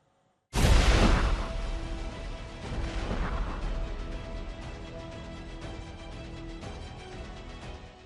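A suicide bomb blast near Karachi airport in Pakistan hits with a sudden, heavy boom, followed by a long roaring, rumbling decay that slowly fades over several seconds, with no voices.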